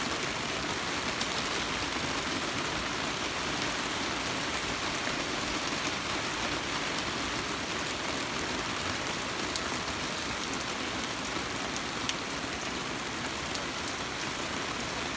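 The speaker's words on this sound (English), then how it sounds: "I can hear the rain getting stronger" Heavy rain pours steadily onto a pasture at night, a dense, even hiss with no letup and no voices.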